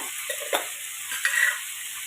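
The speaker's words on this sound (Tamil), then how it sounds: "இதை வதக்கி விட்டு எடுத்துக்கோங்க" Carrot and other vegetables sizzle softly in a pan while a spoon stirs and scrapes, with a couple of brief clattering knocks.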